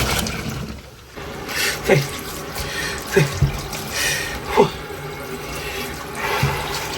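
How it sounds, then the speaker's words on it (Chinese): Blanched pork intestines are rinsed by hand under running water, with steady splashing and flowing water and a few sharper sloshes and knocks at irregular intervals, close up. "肥肠焯好水，再给它洗一下"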